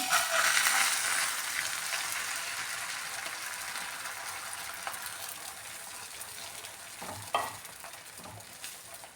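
Butter-greased pan sizzling steadily as batter for a three-ingredient breakfast snack cooks, a fairly loud, broad frying hiss that slowly softens, with a few soft utensil knocks near the end; no talking.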